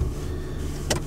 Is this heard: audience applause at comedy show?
no